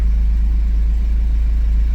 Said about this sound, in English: So this is a 2-litre turbo diesel EE20 engine. So that's just running normally.